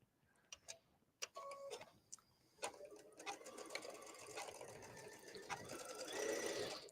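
A sewing machine stitches the sleeve edge of a cardigan with a generous seam allowance, quiet close ticking bursts that start and stop, then settle into a steady run.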